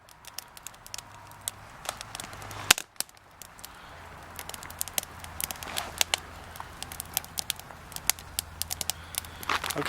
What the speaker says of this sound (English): now the fire stick is completely in flame.